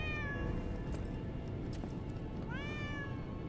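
A cat meows twice in the video game Lies of P, two clear drawn-out calls a couple of seconds apart over a steady ambient game background, with no talking.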